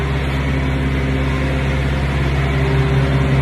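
A refrigerated semi-trailer reefer unit runs steadily with a loud, constant low engine drone and hum, no changes in pace, close by and alone without speech.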